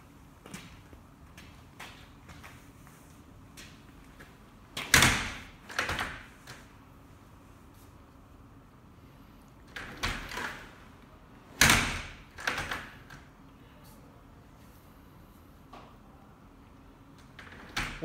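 A door being opened and shut repeatedly while its lock keep is adjusted: sharp latch clicks and solid thumps come in clusters with quiet handling gaps between, close and alone without speech.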